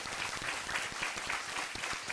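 Audience applause at a global leader and future generation meeting hosted by the Ban Ki-moon Foundation: dense, continuous clapping from a seated crowd, steady and moderately loud for the whole stretch, with no voices.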